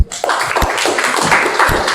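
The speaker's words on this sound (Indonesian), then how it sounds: "Tepuk tangan untuk mereka." A classroom group gives applause to the presenting group, a short burst of brisk, close hand claps lasting about two seconds.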